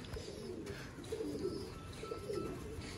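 Sialkoti pure-bred pigeons coo in repeated low, throaty phrases, fairly close and steady, with no talk over them.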